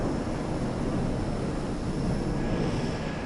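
A jet in Microsoft Flight Simulator 2024 on approach to Lukla, Nepal, gives a constant broad roar of engine and air noise, steady and loud throughout with no change in pitch.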